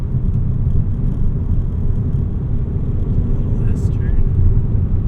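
A manual VW Golf MK6 TDI diesel cruises in third gear, a steady low engine and road rumble heard from inside the cabin at constant volume.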